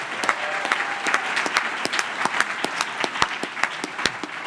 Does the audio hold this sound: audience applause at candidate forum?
yes